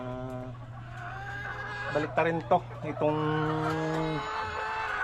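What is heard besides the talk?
chickens clucking in a coop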